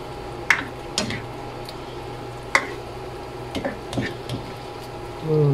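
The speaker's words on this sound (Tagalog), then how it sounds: "so it's now boiling, so we mix" SPAM adobo sauce boiling in a pan while being stirred, a soft bubbling simmer punctuated by several sharp spoon clinks and scrapes against the pan, close up, without talking.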